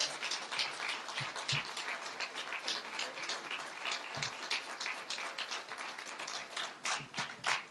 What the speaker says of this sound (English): Brother minister, you bring him on with a warm round of applause